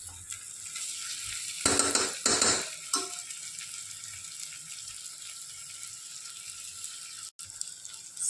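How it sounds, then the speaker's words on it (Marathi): Sprouted masoor lentils and chicken sauté in a pan, giving a constant hissing sizzle, with a couple of louder scraping stirs early on and then an even, quieter fry. "पुन्हा आपण मसुरासोबत सगळं परतूया"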